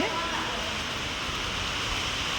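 Heavy rain pours down steadily outdoors while people work, a dense, continuous hiss of falling water that stays loud and even from start to finish.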